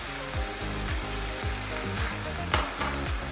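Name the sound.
ground meat frying in a pan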